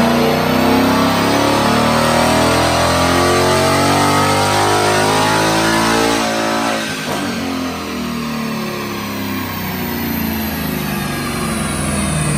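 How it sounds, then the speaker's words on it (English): A 2018-2019 Mustang GT running on a dyno, its V8 screaming loud and steady at high revs up against the engine speed limiter, then easing off slightly before holding a lower drone. "You're hitting actual engine speed limiter that time."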